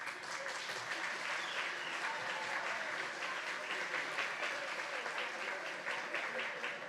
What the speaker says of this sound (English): So give a warm round of applause to Father Robert Aliunzi.